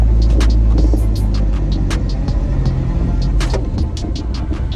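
A 1980 Chevy LUV pickup drives on worn old tires, its engine a steady, loud, close rumble with road noise and scattered clicks and rattles, and no voices.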